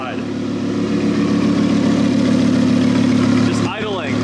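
An Audi R8 idles on a newly fitted aftermarket exhaust, giving a steady, loud, deep burble that runs through the whole stretch, with a short voice cutting in near the end.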